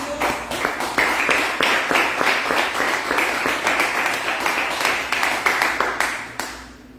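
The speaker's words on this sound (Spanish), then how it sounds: "démosle un fuerte aplauso a Dios" A church congregation applauding, a loud, close burst of rhythmic clapping that holds steady for several seconds before fading out abruptly.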